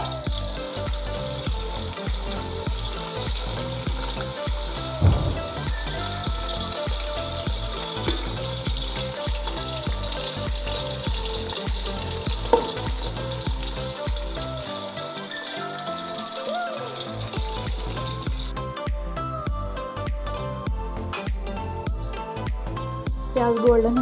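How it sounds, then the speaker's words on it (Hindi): Onions frying in hot oil until golden brown for sabaz chana pulao: a steady, dense sizzle and crackle continuing throughout, close and moderately loud, with soft stirring and occasional clinks of utensils. "प्याजों को हम गोल्डन ब्राउन होने तक फ्राई करेंगे।"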